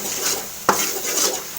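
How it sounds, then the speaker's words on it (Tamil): Ashoka halwa mixture stirred in a pan gives a soft sizzle and a single sharp spoon knock against the metal, close and brief. "சேர்த்து நல்லா கிண்டி விட்டுக்குங்க"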